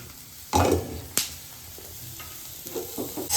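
Green peas frying in a pan, with a couple of sharp stirring scrapes and a burst of sizzle over a soft, continuous frying hiss, close up and without talk.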